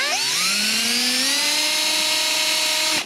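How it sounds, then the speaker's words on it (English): A power drill boring into wood on an antique Singer treadle sewing machine whines steadily, its pitch rising as the motor spins up, then cuts off abruptly after about three seconds, close and loud. "I didn't drill very far in."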